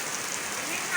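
Steady rain falls outdoors as a soft, even hiss with faint drops, continuous throughout the brief moment.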